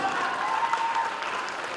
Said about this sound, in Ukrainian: Браво! И аплодисменты!